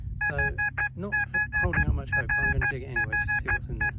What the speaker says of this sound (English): That horrible two-tone signal, bleep bleep bleep bleep plus grunt grunt grunt,